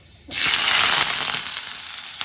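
Chopped onions hit hot oil already holding mustard seeds and fenugreek, bursting into a loud, sudden sizzle that stays strong and then eases slightly, close up in a home kitchen.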